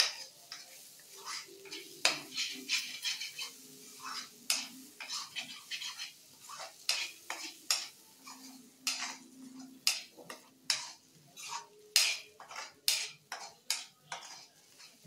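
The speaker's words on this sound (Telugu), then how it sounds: "ఇది బాగా మసాలాకి పట్టేదాకా వేగించి" Spices frying in a pan for meal maker curry, with repeated light clinks and scrapes of a spoon stirring in an uneven rhythm over a faint sizzle, fairly quiet and close.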